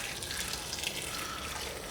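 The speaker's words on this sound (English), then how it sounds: "And now we're going to just pour in some boiling water." Boiling water from a kettle pours steadily into a pot of Chinese-style beef and potato stew, a continuous close hiss and splash of liquid with no talking.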